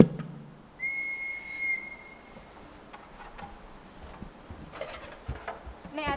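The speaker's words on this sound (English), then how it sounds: "I'll whistle for the others." A person on an island harbor gives a high, clear whistle to call others, a single sustained tone lasting about a second, followed by faint outdoor ambience and bird-like chirps.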